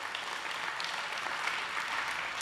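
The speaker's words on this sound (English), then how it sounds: "give a hand clap to the live stream audience" A church congregation claps for viewers watching online, a continuous even wash of many hands applauding, fairly soft and diffuse as if heard from across the room, with no talking over it.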